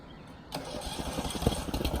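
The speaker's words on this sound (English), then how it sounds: "Brett, if you'll crank that machine" A foundation repair machine's engine cranks and catches, then runs at a steady, fairly loud mid-pitched chug with close rhythmic pulses, starting abruptly after a brief quiet moment.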